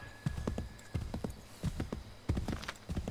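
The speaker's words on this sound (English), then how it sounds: "Horsey, you need to get your sprint on" Horse hooves galloping in Assassin's Creed 3, a brisk rhythmic clip-clop of repeated hoofbeat bursts, fairly close and steady, with no talking over them.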